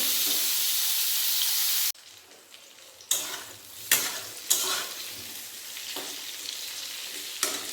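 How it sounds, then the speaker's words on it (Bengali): Steady loud sizzle of pointed gourd frying in hot oil, then quieter bubbling crackle broken by sharp scraping stirs at irregular intervals. "পটলগুলো ভালোভাবে ভেজে নেব"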